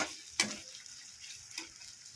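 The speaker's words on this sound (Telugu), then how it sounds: "ఇవైతే మంచిగా ఫ్రై చేసుకోవాలన్నమాట" Ingredients frying in oil for a cabbage fry, a steady soft sizzle broken by two sharper clatters of stirring, close and fairly quiet, with no talk.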